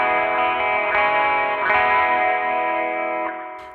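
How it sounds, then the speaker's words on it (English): A Source Audio Artifakt Lo-Fi Elements pedal in destruct mode gives a sustained, distorted effected guitar tone that warbles and sputters like a failing radio signal, with brief glitchy bursts, loud and alone. "it recreates the sound you get when you drive too far from a radio station tower on a road trip"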